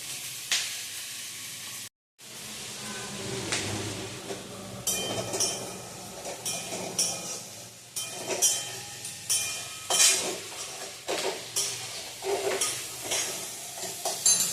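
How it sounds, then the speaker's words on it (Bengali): Onion and capsicum fry over low heat for chilli chicken, a soft, continuous sizzle broken by repeated spatula scrapes and stirs. There is a brief moment of silence early on. "এবার আমি হিটটা লো করে দেবো। পেঁয়াজটা আর ক্যাপসিকামটা একটু নরম নরম হতে দেবো।"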